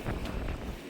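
Steady wind gusting outdoors in cold weather, a continuous broad rushing roar buffeting the microphone, loud and unbroken.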